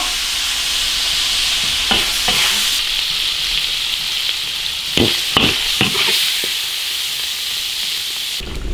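Food stir-frying in a wok, a loud steady hissing sizzle broken by several sharp scraping strokes of the spatula, close and with no talk.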